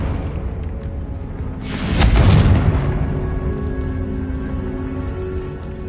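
A Confringo spell explosion in Hogwarts Legacy, one loud, broad blast bursting around two seconds in and fading over about a second against a steady background rumble.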